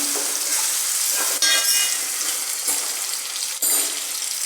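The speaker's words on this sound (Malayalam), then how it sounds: "വെളുത്തുള്ളി ഇഞ്ചി കറിവേപ്പില ഇതിട്ട് ഇളക്കണം" Garlic, ginger and curry leaves frying in oil for a bitter gourd pickle give a steady close sizzle, with two brief scraping stirs partway through.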